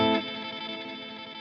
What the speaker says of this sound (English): you can hear the repeats have this tremolo on it